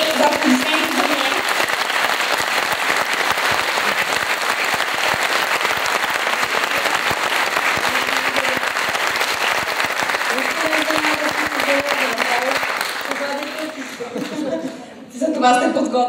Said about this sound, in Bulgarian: Много ви моля за нея да аплодисменти за нея.